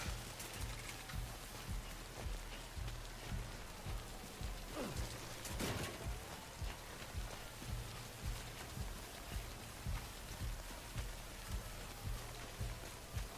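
Timefall rain in Death Stranding, a steady dense patter of falling rain that continues throughout, with a soft repeating low rhythmic pulse underneath and occasional sharper splashes.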